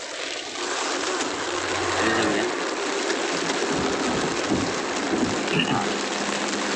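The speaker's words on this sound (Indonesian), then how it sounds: "Hujan." Heavy rain pouring during a storm, a dense continuous hiss of drops on surfaces, loud and steady throughout, with faint voices occasionally underneath.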